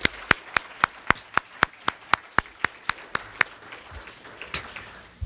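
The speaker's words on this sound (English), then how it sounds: "Let's give him a round of applause" Clapping at a math olympiad awards ceremony: a run of crisp, evenly spaced claps at a steady beat that loosens and fades out after about four seconds.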